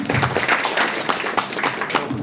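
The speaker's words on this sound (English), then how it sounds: "Let's give Sanchi a big round of applause, everybody" An audience claps at the launch event for a women's handball league in India, a lively burst of applause with uneven, rising and falling intensity and a few voices mixed into the crowd.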